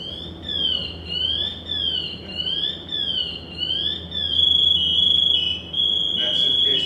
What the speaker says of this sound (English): built into this is a pass alarm. It's a personal alarm safety system.